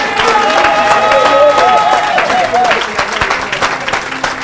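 A church congregation applauds in a dense, steady burst of clapping, with a voice rising over the crowd and a few sharp individual claps standing out as the applause thins toward the end.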